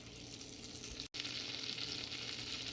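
Butter melting in a pan over medium-low heat, a soft continuous hiss and gentle sizzle, close and even, broken by one brief silent gap.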